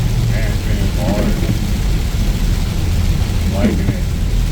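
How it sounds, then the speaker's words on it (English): Inside a Volvo V70 XC AWD driving toward Mount Baldy, a loud, dense wash of rain drums steadily with a low rumble under it, and someone speaks now and then. "I always like the rain."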